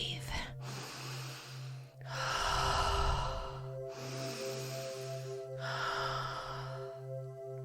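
Slow, deep meditative breaths, long airy inhales and exhales repeating about every two seconds, close and soft over a steady low hum.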